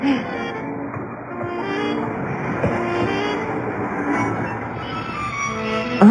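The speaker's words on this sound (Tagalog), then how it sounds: "Bakit may tren dito?" A train rumbles steadily past nearby in an animated series, a continuous rolling roar with faint tonal squeals and clanks throughout.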